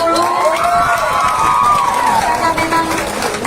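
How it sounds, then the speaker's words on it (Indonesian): Families at a school graduation ceremony cheer and shout with scattered clapping as a top-ranked student is announced, a loud continuous crowd roar with children's voices rising and falling. "kita beri tepuk tangan dulu"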